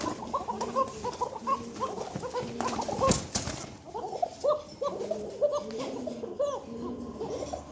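A Koka pigeon calls in a run of soft, repeated cooing notes, close and moderately loud, with a brief sharp noise partway through and faint background sounds.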